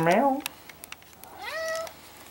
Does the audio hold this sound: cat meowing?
yes